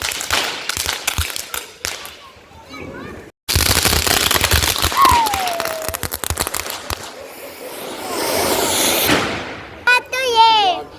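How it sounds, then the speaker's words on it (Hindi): Firecrackers bursting during Govardhan Puja celebrations, a run of sharp cracks and crackling bangs at close range, followed by a dense volley of rapid pops. Voices and children's chatter come through between the blasts. "तो ये बम बहुत खतरनाक होता है।"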